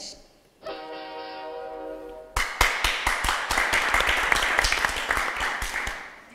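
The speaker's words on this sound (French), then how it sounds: "On applaudit à la réponse et non à la question." A sustained electronic tone sounds on a French TV quiz show, then the studio audience breaks into lively applause, with sharp, distinct claps in a loud, uneven rhythm that carries through to the end.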